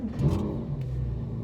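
A Porsche 997.1 Carrera with a 4.3 liter engine firing up, a quick starter burst and rising rev, then settling into a steady, low, close idle rumble.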